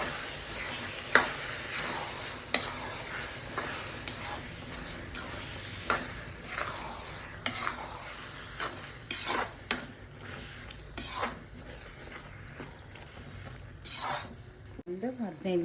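Prawn masala with garam masala powder being stirred in a pan: steady sizzling with repeated scraping and clinks of a spoon against the metal, close and continuous.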